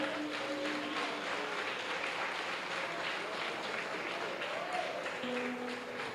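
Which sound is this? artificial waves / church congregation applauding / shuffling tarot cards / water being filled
church congregation applauding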